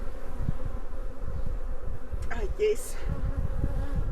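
Bees hum around a weakened hive that has swarmed, a dense low buzz continuing throughout, with a brief spoken word partway through.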